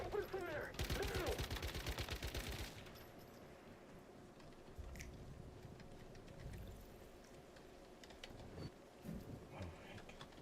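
Gunfire in the video game Once Human, a fast loud burst of rapid shots for a couple of seconds, then a quieter rumbling, clanking stretch with faint scattered sounds.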